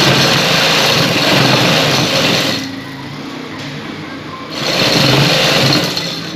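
A sewing machine runs in steady, fast bursts while stitching a border along the slit of a kameez, humming loudly up close, pausing briefly in the middle before resuming at full speed.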